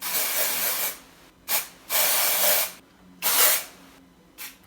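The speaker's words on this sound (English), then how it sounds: "I'm going to spray this one purple." Several bursts of hair colour aerosol spray hiss close by, long sprays alternating with short puffs separated by brief silences.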